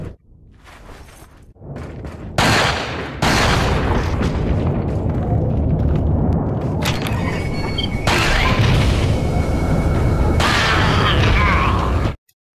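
Handgun shots fire in the Resident Evil 4 VR video game, producing loud, booming bursts that come in sudden blasts over a dense, roaring game soundscape.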